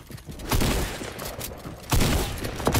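Video game gunfire in dense, rattling bursts: one volley erupts, eases off, then a second heavy burst follows, loud and close.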